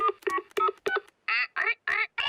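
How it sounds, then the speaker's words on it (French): Telephone dialing in the French Peppa Pig cartoon: a quick run of synthetic beeping tones, first short choppy pulses and then longer steady tones, clear and close with no talk. "Je vais appeler Mamie Pig."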